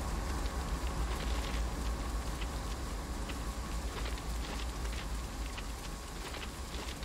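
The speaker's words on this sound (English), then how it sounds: "Ooh, this is gonna be terrible, it's raining." Steady rain falling in the Train Sim World 2 train simulator on the Sand Patch Grade route, a continuous even hiss of drops on surfaces at a constant level throughout, with no talking.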